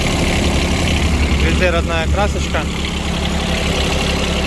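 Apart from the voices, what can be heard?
Kubota Aste A13 tractor three-cylinder engine idling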